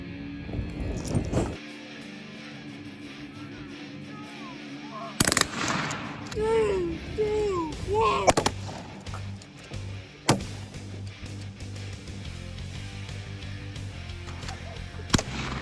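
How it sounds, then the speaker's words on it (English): Outdoors, a shotgun fires into gasoline, setting off sharp blasts: a few loud, abrupt bangs spread across the stretch, with people shouting and reacting in between against steady background noise. "I didn't think about the explosion."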